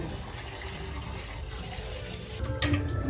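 Tap water runs steadily into a kitchen sink while onions are washed, a close, constant hissing splash with a brief louder gush near the end and no talking.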